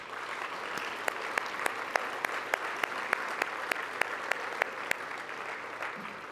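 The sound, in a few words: banquet audience applause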